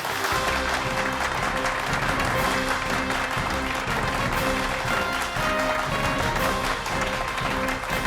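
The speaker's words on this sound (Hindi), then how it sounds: "तो जोरदार तालियों के साथ स्वागत कीजिए" Loud, sustained audience applause welcoming a magician onto the stage, a dense steady wash of clapping with music underneath, continuing without pause for the whole stretch.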